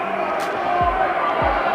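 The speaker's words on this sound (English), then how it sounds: "the crowd now really rising" Boxing arena crowd at a WBC title fight in Scotland, a steady broad roar swelling continuously as the action builds, with a couple of low thuds and a commentator's voice running over it.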